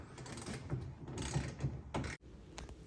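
Clamps being tightened on a truck bed cover during installation give a run of close mechanical ratcheting clicks, steady for about two seconds before a brief stop and a softer tail.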